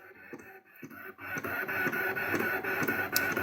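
A ScanNCut cutting machine works on an age-shaped birthday card, starting quietly and then settling into a steady mechanical whir with small ticks and shifts of its carriage, close by and continuous.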